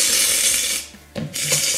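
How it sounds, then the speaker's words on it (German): A can of shaving foam is shaken hard to make slime: a rapid rattling, clicking burst, close and loud, breaking off briefly near the middle before the shaking resumes. "Ich schüttel dir das gerade mal. Damit da auch schön der Schaum rauskommt"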